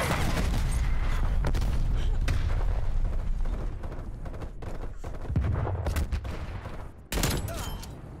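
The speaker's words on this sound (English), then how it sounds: "Hostile artillery targeting active. Net call. Incoming artillery." Artillery strike in Call of Duty: Black Ops Cold War, a dense barrage of booms and gunfire rumbling continuously, with a sharp heavy blast toward the end.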